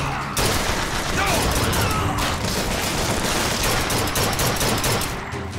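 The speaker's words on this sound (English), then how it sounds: "Terrible shooting." Sustained, dense gunfire from the shooter game Bioshock Infinite rattles nonstop for several seconds, loud and close, with overlapping bursts and booms filling the whole stretch.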